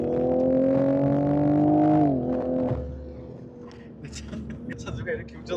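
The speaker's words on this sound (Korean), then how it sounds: "다운시프트 하면서 순간적으로 빡 치고 나갈 때" A BMW-built Supra with an eight-speed gearbox drones loudly from inside the cabin, its engine pitch dipping sharply as it downshifts, then settling into a lower hum, with people talking over it.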